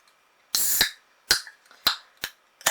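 A drink can or bottle is cracked open with a sharp burst, followed by a few quick clicks and snaps nearby.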